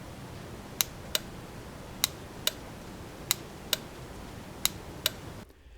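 A motorcycle electrical relay clicks as current is applied to its low side, four crisp pairs of sharp, close clicks spaced evenly over a quiet background.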